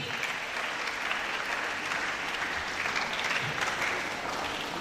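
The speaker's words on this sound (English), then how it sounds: "A round of applause once again." Dense, steady applause from a school audience at a seminar on social vices, a continuous wash of many hands clapping at moderate loudness for several seconds with no one speaking.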